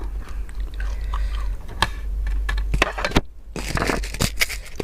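Raw oysters eaten with crispy fried chili: close, moist biting and chewing with crunchy crackles and scrapes, repeated in short bursts, with no talking.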